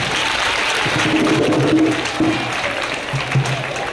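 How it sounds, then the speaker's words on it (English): Audience applause at a high school assembly, a dense wash of clapping filling the space, with faint voices rising briefly underneath. "Big round of applause for Mr. Kerr."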